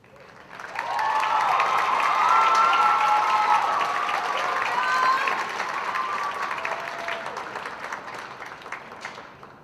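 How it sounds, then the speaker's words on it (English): Audience applause fills a hall at the Mr. Vineland 2022 pageant, a dense, loud wash of clapping that swells quickly, holds steady for several seconds, then slowly tapers. "One more time, can we please give a round of applause?"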